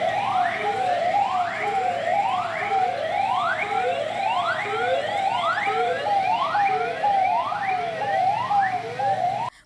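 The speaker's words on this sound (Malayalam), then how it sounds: "ആംബുലൻസിന്റെ ബീപ്പ് ശബ്ദത്തിന് മാത്രമാണ് വേഗതയുള്ളത്." An ambulance siren wails continuously in a steady rising-and-falling cycle, loud and close, as ambulances push through congested traffic in Kondotty town, Kerala, amid road works. No voices are heard.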